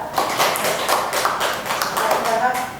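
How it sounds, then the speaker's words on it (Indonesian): A group of people clapping in applause, a dense burst of close hand claps lasting a few seconds. "Oke, aplaus untuk kita ya."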